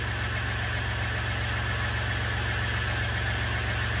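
A 2015 Ram 2500 3.0L EcoDiesel pickup engine idles steadily close by, a constant low rumble with a fixed mechanical hum and no change in pace.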